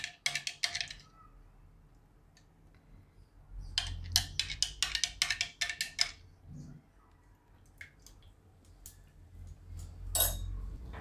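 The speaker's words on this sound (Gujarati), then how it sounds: "તો આને થોડુંક આપણે હલાવી લેવું આ રીતે" A spoon stirring pomegranate juice in a glass or vessel, giving bursts of bright metallic clinks and taps in quick clusters separated by quiet pauses, close and fairly soft.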